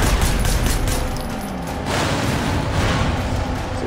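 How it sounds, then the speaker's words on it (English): Rapid gunfire and explosions in the open-world action game Sleeping Dogs, dense bursts of shots that run continuously with a heavier blast near the middle, loud and close without talk. "So we shoot them up, we blow them up, we kill them all, we move on out"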